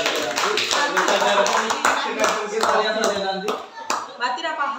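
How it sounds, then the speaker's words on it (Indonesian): Classroom of children clapping their hands together, a dense burst of many quick overlapping claps with sharp accents, fairly loud and close, with some voices mixed in. "Tepuk tangan dulu."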